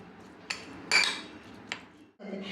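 Cucumber salad being stirred with a spoon in a bowl after hot tempering is poured over it: a few scattered clinks and scrapes of utensil against the dish, fairly close and quiet.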